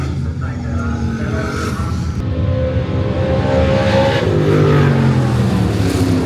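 A naturally aspirated car engine revs at a distance, rising and falling in pitch, with rumbling background noise and voices talking over it.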